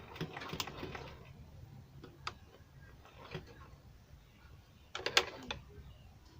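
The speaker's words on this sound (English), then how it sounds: "as you are stitching the upper part, you have to leave small space here where you can fix the elastic band" A sewing machine stitching night wear fabric runs quietly in short ticking bursts with pauses, a faint mechanical clatter of needle and gears, louder near the end.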